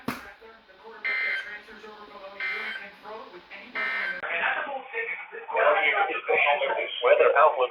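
A NOAA Weather Radio warning alarm test tone from a Birmingham, Alabama station's weekly test, steady electronic beeping bursts in a repeating pattern, followed by a synthesized voice talking as the tone gives way.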